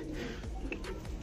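Shirazi pigeons coo in low, throaty murmurs, close by, in a brief continuous burst.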